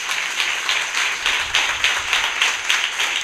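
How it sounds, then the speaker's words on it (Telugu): A church congregation claps loudly in a steady rhythm, with regular bursts of many hands beating together in time, filling the room. "గట్టిగా చప్పట్లు కొడదాం"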